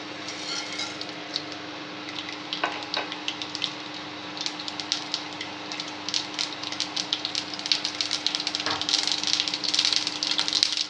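Mustard seeds and urad dal fry in hot oil, giving a steady fine crackle with scattered pops that thicken toward the end, close by over a constant low hum, with no talk.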